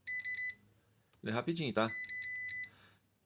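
A ZOYI ZT-XT1 multimeter on its continuity setting gives a quick run of three short, close beeps, then someone briefly speaks, then a longer run of rapid repeated beeps returns.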